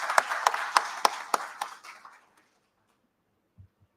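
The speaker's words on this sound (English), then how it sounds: "a big round of applause to all of you for coming to this lifestyle medicine retreat" An audience at a lifestyle medicine retreat claps in a short, sparse burst of about six sharp claps that fade out within two seconds, followed by quiet.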